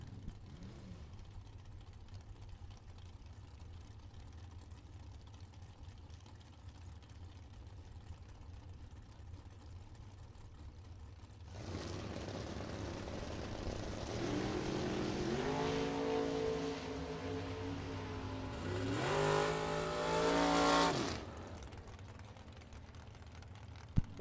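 A 1966 Chevy II and a pickup truck launch at a drag race. A steady distant engine rumble gives way to a louder roar, and engines rev and climb through the gears before cutting off.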